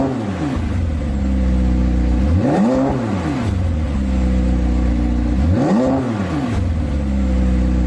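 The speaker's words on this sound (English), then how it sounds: "The cars from factory have this kind of odd whistle you can hear on a factory exhaust system" The factory exhaust of a McLaren 720S supercar gives an odd, shrill whistle over a deep engine drone, with two clear rev swells rising and falling a few seconds apart. It is loud, close and continuous, with no talking.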